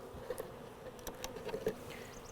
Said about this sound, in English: Shake a bunch of the bees down into the hive.